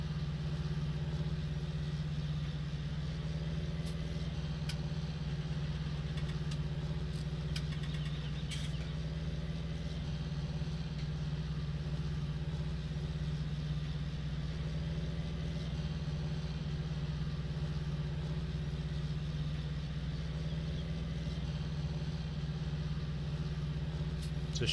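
A modded tractor idles in Farming Simulator 19 with a steady, low engine drone that holds for the whole stretch, broken only by faint light clicks.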